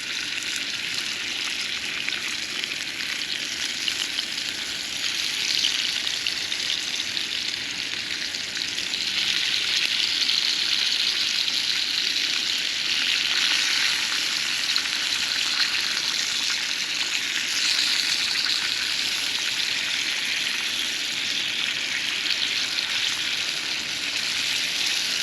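Steady crackling sizzle of bacon frying in a pan outdoors on a cold morning, continuous and moderately loud throughout, with no talking.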